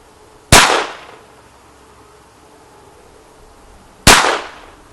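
Two sharp, loud shots from a Smith and Wesson M&P 22 pistol, about three and a half seconds apart, each trailing off in a short echoing decay with quiet between.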